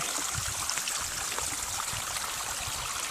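Water gushes steadily from a seasonal spring coming straight out of a mountainside on the Pacific Crest Trail, a close, continuous, hissing and babbling flow with no other sounds.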